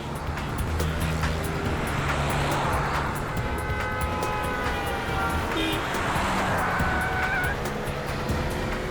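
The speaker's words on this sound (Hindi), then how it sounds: "आगे देके गाड़ी चला" Car driven along a road, a steady close engine and tyre rumble throughout, with a horn-like tone sounding in bursts over it and no clear talk.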